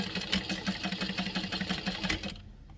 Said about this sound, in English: And then we'll sew them with 1/4 of an inch.